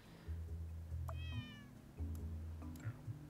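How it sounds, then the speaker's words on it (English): A cat in the puzzle game Cat's Neatly Organized gives a short meow over quiet, low background game music with soft tones. "I love the meowing."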